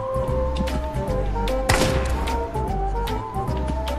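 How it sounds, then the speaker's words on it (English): A burst of Fortnite gunfire during a prop hunt game, a sharp loud crack followed by scattered thuds and pops over a steady droning hum of background game audio. "Whoa, gunshots."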